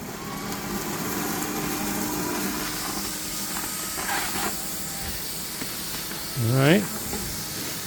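An EGO 56V cordless wet dry vac running on its low setting, giving a steady airy hiss and whine throughout, with a brief spoken remark near the end.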